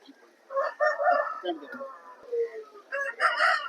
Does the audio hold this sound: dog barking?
no